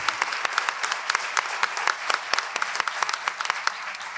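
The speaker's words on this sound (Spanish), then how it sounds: "Vamos a dar un aplauso." Applause fills a plenary session on service-learning, a dense steady clatter of many hands clapping in a hall, with sharper individual claps poking through.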